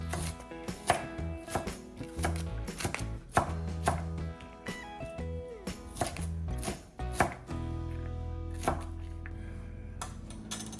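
A knife chops onion on a cutting board for pico de gallo, quick rhythmic close thuds in bursts with brief pauses, loud and alone.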